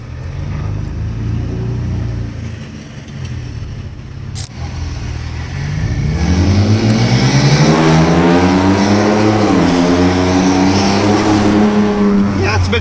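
A 2025 Ford Ranger Raptor V6 with a Magnaflow full exhaust, running in quiet mode, idles with a steady low rumble, then revs up and accelerates with a rising, throaty exhaust note that stays loud and close.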